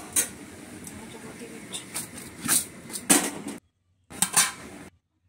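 A lid put on a cooking pot on a low-flame gas stove while spiced vegetables fry: several sharp metallic clinks and clatters in close succession, followed by a short silence and another pair of clinks.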